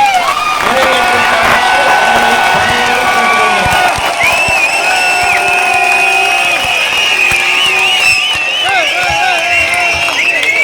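A big crowd at a PMK party general body meeting in Mahabalipuram cheers and applauds loudly and continuously, with shouting voices and whistle-like tones over the steady roar.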